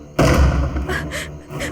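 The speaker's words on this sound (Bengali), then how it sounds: "দরজা ধাক্কানো বন্ধ করো।" Heavy thuds of someone banging on a door in a tense drama scene, a loud burst of pounding followed by several softer knocks over a low background, with no speech.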